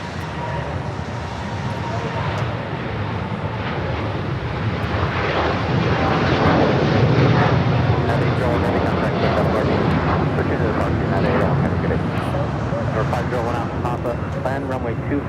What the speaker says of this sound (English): Special livery on an Avianca A320 at Neo just touching down.